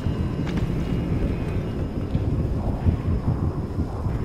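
A thunderstorm rages in the Far Cry 2 game: a constant heavy rumble of wind and rain with low booming thunder rolling underneath, loud and unbroken throughout.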